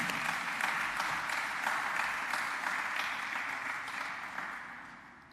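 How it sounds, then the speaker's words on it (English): An audience applauds teachers at a Ministry of Education Mathematics Teacher of the Year regional awards ceremony, a steady, dense wash of clapping that holds for about five seconds before gradually thinning out. "let's give them an applause this morning"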